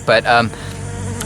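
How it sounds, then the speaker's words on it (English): A bee buzzes close around a microphone outdoors, a loud droning hum in two strong bursts before fading into a softer steady buzz, with a brief word spoken. "There's a bee flying around the microphone"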